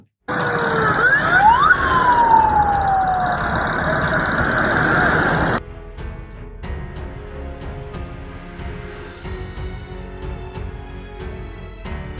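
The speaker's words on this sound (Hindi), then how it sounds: "सारी एम्बुलेंसेस जा रही हैं वहां पे" Multiple ambulance sirens wail near and loud as a convoy of ambulances heads toward Noshki, their tones sweeping and overlapping, then cut away abruptly to a quieter, distant-sounding background with faint tonal traces.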